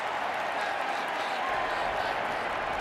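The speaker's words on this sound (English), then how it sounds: "this crowd is making an impact already today" Football stadium crowd roaring steadily at a Rutgers versus Iowa college game, a dense, continuous wash of cheering and noise that stays loud throughout.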